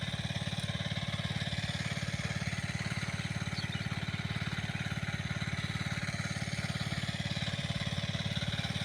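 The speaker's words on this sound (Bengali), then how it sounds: "ওখানে একটা ইঞ্জিন চলছে পাম্প" A small engine-driven water pump in a garlic field chugs steadily with a fast, even putter, continuous and fairly close, nothing else standing out.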